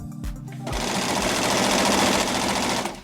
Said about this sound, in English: I caught up with Taylor at her home studio as she worked at her sewing machine.